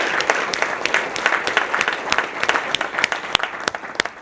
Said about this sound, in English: let's give a round of applause for all of these incredible people who are here with MS.